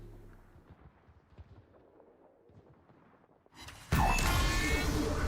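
Heavy naval guns firing high-explosive shells in the warship battle game World of Warships, a sudden loud booming blast with a long rumbling roar that follows a quieter stretch of low game ambience.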